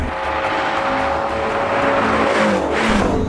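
A 2017 Ford Shelby GT350 runs fast along an open road, its loud engine droning steadily with rising revs and a brief tire squeal near the end, close and continuous.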